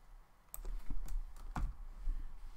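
Keys on a computer keyboard are tapped in a short, irregular burst of close, soft clicks, with no talking.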